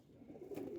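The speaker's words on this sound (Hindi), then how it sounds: "अच्छे कबूतर है" A pigeon coos softly at close range in one short, low, throaty burst, with no other sound around it.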